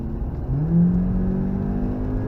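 A car accelerates out of a corner on the Nürburgring Nordschleife in the rain, the engine note rising steadily in pitch, loud and close from inside the cabin, with no talking.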